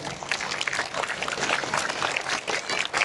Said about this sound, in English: So big round of applause for your teachers.